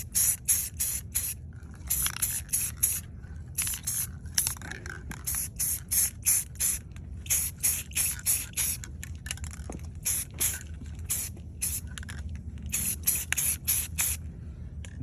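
Short rhythmic hisses of an aerosol enamel can used as primer on a 1/14 scale RC Kitty Next Gen D8 body, light quick passes repeating in steady bursts with brief pauses between, close and fairly quiet.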